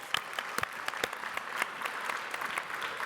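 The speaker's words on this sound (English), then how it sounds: "Give another round of applause." Audience applause at a charity gala, a thinner crowd clapping with distinct individual claps popping out irregularly over a soft bed of hands, moderately near and fairly brief.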